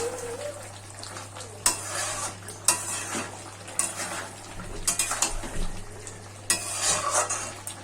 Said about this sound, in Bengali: চিনি আর লবণটা দিয়ে আর একটু নাড়াচাড়া করে দেব।